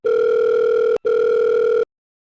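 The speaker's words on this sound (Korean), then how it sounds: "아무 일 없듯 전화를 걸었고" Two loud, steady electronic ringback tones of an outgoing phone call, each close to a second long, separated by a brief gap before silence follows.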